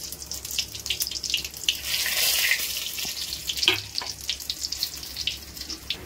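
Cumin, red chili and bay leaf temper in hot oil with a loud, uneven, close sizzle and spitting crackles that rise and fall. A low background hum runs underneath.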